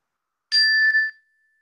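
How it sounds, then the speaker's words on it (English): A single meditation chime struck once, a clear bright ring with steady tones that sustains for about half a second before fading, alone in silence. "at the end of 5 minutes, you'll hear the chime again"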